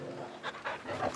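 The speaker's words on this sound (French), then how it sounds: "Regarde, ils ont un gros chien avec eux." A big dog in Final Fantasy XVI pants in quick, breathy bursts, close by and fairly soft, over a quiet in-game background.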